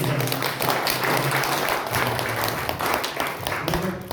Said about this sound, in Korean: 그럼 박수 한번 주시기 바랍니다.